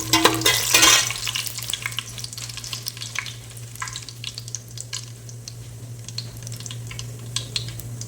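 Pepper and cumin sizzle and fry in hot oil in a pan, a loud burst at the start settling into steady close crackling with light stirring over a low hum, no voices.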